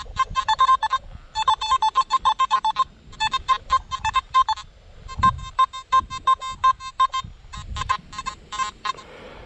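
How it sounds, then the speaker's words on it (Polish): A metal detector gives repeated beeping signal tones over a bottle cap and a coin, sounding in short bursts of rapid pulses separated by brief pauses, clear and close with faint handling noise underneath. "Kapsel i 10 groszy z szajs metalu dają praktycznie bardzo podobny sygnał."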